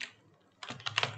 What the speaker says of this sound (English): Type earth,